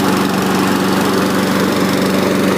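A Husqvarna AWD riding mower's engine runs steadily at close range while burning oil out of its oil-soaked muffler, giving a continuous loud, rough, pulsing drone with no talking.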